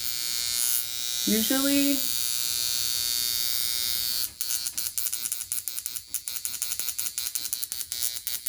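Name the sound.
high-frequency skin device buzzing while zapping pimples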